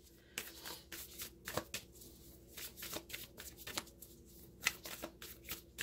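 Whispers of Love oracle cards are shuffled by hand close up, a soft run of riffling slaps and flutters with brief pauses between, quiet and without talk.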